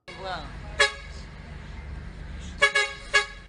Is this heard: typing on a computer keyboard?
no